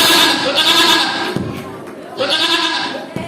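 A voice imitates a goat bleating in two long, wavering bleats during a Hindi religious sermon, loud and close, with brief pauses between them.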